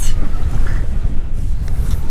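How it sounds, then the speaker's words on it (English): Steady, blustery wind buffets the microphone with a low roar on a sailboat, rising and falling in gusts throughout. "Just as predicted, the wind came."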